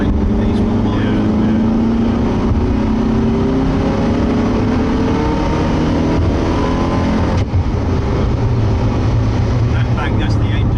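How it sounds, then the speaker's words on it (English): A Zenvo 1200hp hypercar engine roars loudly and continuously from inside the car, with a brief ignition-cut stutter partway through and someone talking over it. "That's the engine. That's not the gear."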